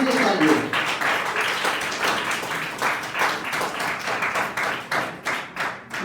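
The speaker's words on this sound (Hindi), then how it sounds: "इनके लिए तालियां।" Audience applause at a school competition award ceremony, with steady, moderately loud clapping from many hands across the hall that carries on throughout and fades slightly toward the end.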